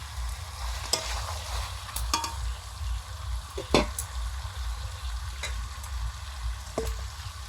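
Green chillies and whole garlic fry in a pan alongside mutton being browned, a steady close sizzle broken by several sharp scraping and tapping strokes from stirring, with no voices.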